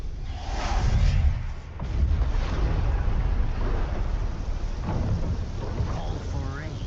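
Steady rain with deep rumbling thunder in a video game fills the scene, swelling and easing over several seconds, with faint voice-like sounds mixed in.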